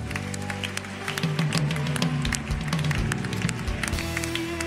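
A church congregation claps and cheers in acclamation of Jesus, a dense stretch of applause and crowd noise running throughout, with musical tones sounding underneath.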